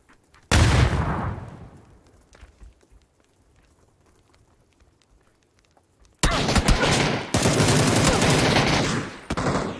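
Bursts of gunfire from the battle game PUBG Battlegrounds: a loud burst at the start that fades, near silence, then dense sustained firing for the last few seconds, with no talk.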